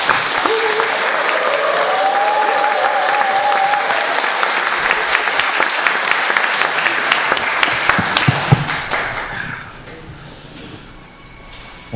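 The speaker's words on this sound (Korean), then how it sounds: "우리 이상구 박사님 큰 박수와 함성으로 우리 또 모시겠습니다." A large audience in a lecture hall breaks into sustained, loud applause and cheering, with whistles and shouts rising over dense clapping that holds steady for several seconds before thinning out toward the end.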